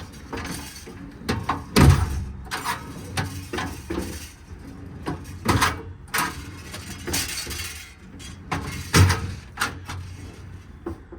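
Aluminum twist-lock drawers on a 2021 Ford F600 mechanics truck body are slid and latched, giving a series of sharp metallic clunks and rattles spaced a second or two apart, close and fairly quiet.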